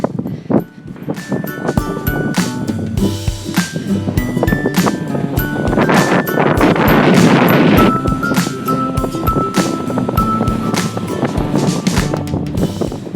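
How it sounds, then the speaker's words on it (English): Strong, steady wind by the sea buffets the microphone in a loud, continuous roar, with gusts and rumbling low noise swelling in the middle. "Does this give you a better sense of how windy it is?"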